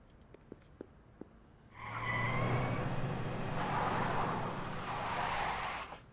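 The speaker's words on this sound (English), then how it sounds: "She's driving a car." Car in the Xenoblade Chronicles X video game, a few soft clicks followed by a sudden loud sustained engine roar with rushing noise, steady and close for several seconds before easing off.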